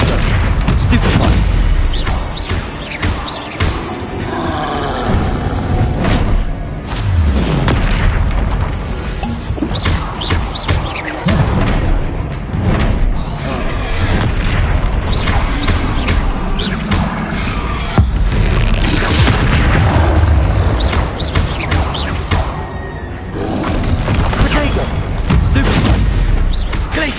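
Spell combat in Hogwarts Legacy, with Confringo and Stupefy blasts and impacts booming loudly and continuously amid dense crashing battle noise, with shouted voices over it.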